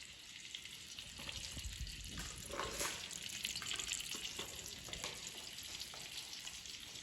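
Hot oil sizzles steadily as tempering seeds crackle and fry, a continuous close hiss with small pops and no talking.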